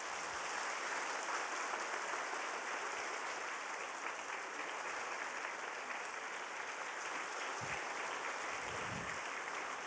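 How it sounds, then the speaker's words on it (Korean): Church congregation applauding together during a Sunday service, a steady, dense wash of clapping that fills the whole stretch at an even level, with no talk over it. "뜨거운 박수로 축하해 주시기 바랍니다."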